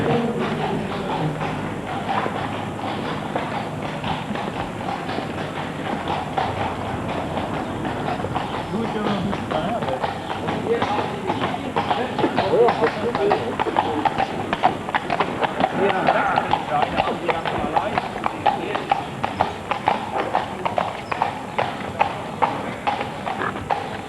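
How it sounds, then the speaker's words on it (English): A horse walks by with a steady clip-clop of hooves that grows louder and more distinct partway through, under continuous people talking. "Here comes the horsey."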